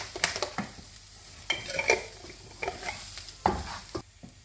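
Pepper, fennel seeds and curry leaves for a prawn curry sizzle in a pan while a spoon stirs and scrapes in irregular bursts, close and fairly quiet, with no voices.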